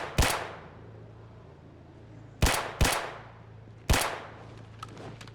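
Four loud, booming shotgun blasts in the zombie survival game Project Zomboid, two of them fired in quick succession, each with a sharp attack and a fading tail over a low steady hum, no talking.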